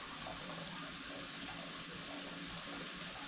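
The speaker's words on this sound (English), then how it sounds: "I'm going to empty those out and put warm water in there so that the solution will dissolve" Warm water pours steadily into buckets for a cowhide tanning solution, a constant close rushing splash with no pauses and no voices.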